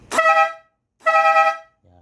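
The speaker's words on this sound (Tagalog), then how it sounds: "Naka air horn." Two loud, close blasts of a Kawasaki Aura 2003 motorcycle's aftermarket air horn, each about half a second and strongly tonal, followed by a short fainter toot.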